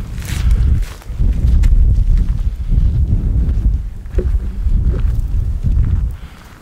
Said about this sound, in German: Na, scheiße windig heute